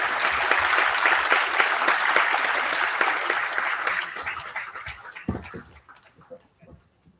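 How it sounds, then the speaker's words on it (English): An audience at a B.Tech inauguration ceremony claps for the guests, dense applause that fades over several seconds into a few scattered claps and quiet. "Ladies and gentlemen, a huge round of applause for our guests."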